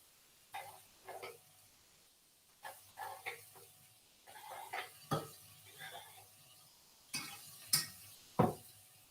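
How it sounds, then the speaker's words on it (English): Carrots and ginger tipped into a saucepan for carrot, orange and ginger soup, heard as a series of scattered clatters and knocks against the pan, with a couple of sharper metallic clinks near the end. "So we're going to add the carrots and the ginger, not the orange juice at this stage"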